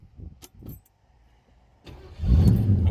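A 1973 Ford Torino with a slight exhaust tick: keys jangle briefly, then after a short lull the engine fires and settles into a loud, close, steady rumble.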